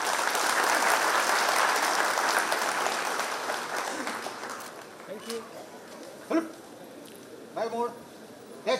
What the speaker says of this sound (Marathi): टाळ्या जोरदार वाढवाव्यात.